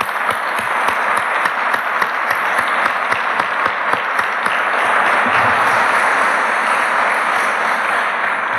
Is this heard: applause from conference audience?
yes